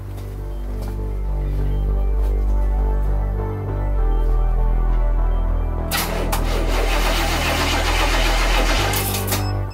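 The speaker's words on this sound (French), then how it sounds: "On va voir si ce petit machin arrive à démarrer le 5 litres 7 V8." A jump starter cranks a 1977 Chevrolet Caprice's 5.7-litre V8, heard as a steady low mechanical drone that turns harsher and broader toward the end, with no voices.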